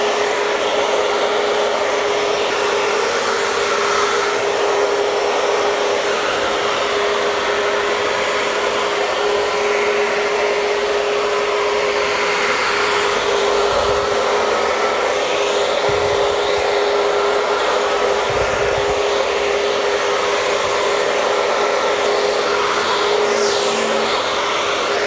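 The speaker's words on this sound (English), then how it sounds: "place the hair into the diffuser and working at the roots, scrunching the hair up" A hair dryer fitted with a diffuser runs steadily and loudly throughout, drying and scrunching hair at the roots, its constant broadband whoosh occasionally shifting slightly in tone as it is moved.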